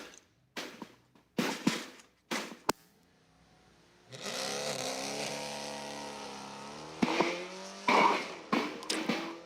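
A Camaro and a Crown Victoria launch off the line at a Friday night street-legal drag strip, preceded by short bursts of engine and tire noise, then a sustained roar as the cars pull away.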